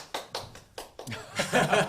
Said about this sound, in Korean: 박수 크게 치십시오